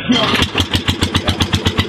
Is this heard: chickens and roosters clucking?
no